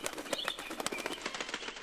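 A rapid flutter of wing flaps in the video game Super Mario Maker, steady and fairly faint, as several birds take off and flap together.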